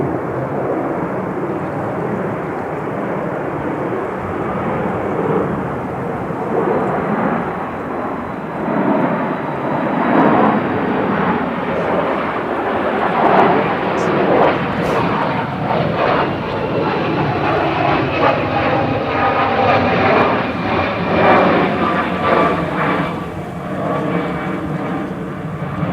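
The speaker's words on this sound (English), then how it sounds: "BTPRI departing back down to Luton now for Reliance Industries. It's a Bombardier Global" A Bombardier Global 7000 business jet departs windy Manchester Airport for Luton, its engines giving a loud, steady roar that holds for the whole stretch, with gusty wind mixed in.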